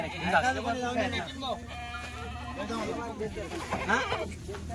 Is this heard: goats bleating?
yes